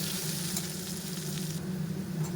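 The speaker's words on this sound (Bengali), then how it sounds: "নাড়াচাড়া করে নিই, একটু ভেজে নেবো আলুটা।" Potatoes frying in oil in a pan, a continuous close sizzle with faint shuffling as they are stirred, steady and moderately loud with no voices.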